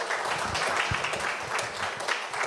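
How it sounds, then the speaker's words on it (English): A crowd at an African History Month celebration in San Fernando applauds, with dense, steady clapping that fills the space at moderate loudness and carries no talk over it. "certainly a round of applause for Mr."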